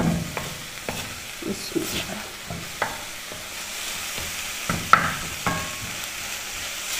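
Soy sauce and chili sauce are mixed and cooked in a pan, with repeated scraping and stirring clinks over a low sizzle, while a voice speaks briefly near the start.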